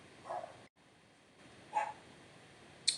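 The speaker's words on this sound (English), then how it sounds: "there goes the dog again" A household dog barking a few times from another room, short muffled yaps spaced well apart over a quiet indoor background, fairly faint and distant.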